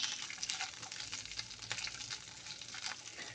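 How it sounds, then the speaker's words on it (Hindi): Vegetables with potato, carrot and capsicum sautéing in a pan for pineapple chicken, a steady close crackling sizzle with faint stirring scrapes, no voices. "सब्जियों को सौते करेंगे। और सबसे लास्ट में शिमला मिर्च।"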